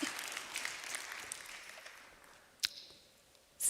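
A church congregation applauds, a dense burst of clapping that gradually fades out over a few seconds, followed by a couple of faint knocks.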